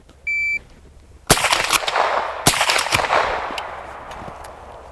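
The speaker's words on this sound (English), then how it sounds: "We're gonna go shoot, transition, shoot, just 2 shots" A short timer beep, then two loud shots about a second apart with a ringing tail, from a tactical lever gun and an AR-15 fired at a 50-yard target.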